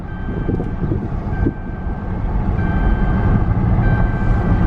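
A pickup truck with its hood cracked and an overheating problem cruises slowly at low RPM, its engine a steady, loud low rumble with road noise that swells slightly over a few seconds.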